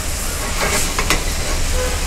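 Curry leaves hit hot oil in a pan of frying chicken for Erode-style Pallipalayam chicken, giving a steady, close sizzle with a brief louder crackle midway.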